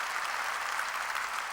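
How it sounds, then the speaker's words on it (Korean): A church congregation claps hard and fast, dense sustained applause that fills the whole room at an even loudness. "이게 박수 치려면 세게 치라고. 세게."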